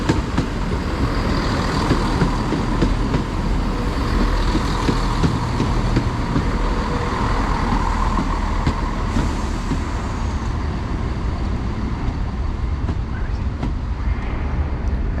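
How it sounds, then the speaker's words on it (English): A steady low rumble of a ScotRail train rolling into a station platform in Aberdeenshire, continuous and fairly loud, with faint background noise and no talking. "another train to arrive is the 1609 ScotRail service to Inverurie from Montrose."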